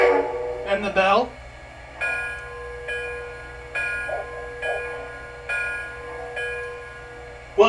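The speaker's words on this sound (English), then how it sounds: "And the bell." Bell of an MTH O gauge model locomotive ringing in a steady series of clear metallic dings, about one per second, fairly quiet and close, after a short spoken voice at the start.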